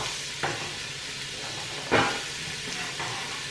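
Vegetables and carrots starting to cook in a pan, a steady, soft hiss of frying with a few brief knocks and stirring scrapes, close and moderately loud, with no talking.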